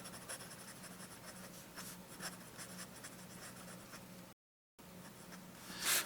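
Fine-nib Waterman fountain pen filled with Waterman Intense Black ink, scratching steadily across paper in soft, close strokes, with a brief silent gap near the end.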